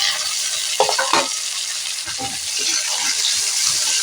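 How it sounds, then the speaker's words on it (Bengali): Chopped tomato stirred into frying onion and garlic in a pan, with a steady loud sizzle and clattering spoon strokes throughout, no voices. "টমেটো কুচিটা এইভাবে আমি খানিকক্ষণ নেড়ে নেবো যাতে একটু গলা গলা হয়ে যায়"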